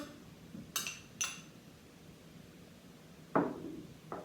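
Metal spoon clinking against a mixing bowl while butter is added to flour for homemade scones, with two quick bright clinks early and two more later, fairly faint in a quiet kitchen.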